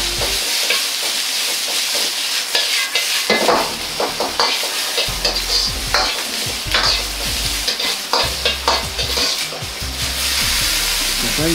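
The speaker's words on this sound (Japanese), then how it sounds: "白菜、小松菜、人参、ピーマン、ネギを炒めていきます" Loud, continuous sizzling of Chinese cabbage, komatsuna, carrot, green pepper and leek stir-frying in a hot wok, with repeated scraping and tossing from a spatula, up close and without talking.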